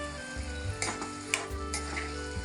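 Sliced mushrooms, washed beforehand, tossed into a hot pan of spiced mushroom curry, giving a steady close sizzle with light stirring scrapes and a few small clinks, no talking.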